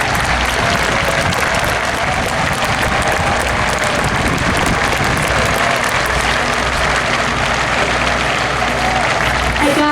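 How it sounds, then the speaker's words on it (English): Loud, sustained applause from a large crowd in a high school football stadium on opening night, a dense wash of clapping and cheering that holds steady throughout. "give yourselves an ovation and clap for everybody"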